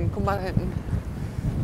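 Wind blows across Papagayo beach at Playa Blanca on Lanzarote, a low gusty rumble on the microphone heard under a short spoken phrase.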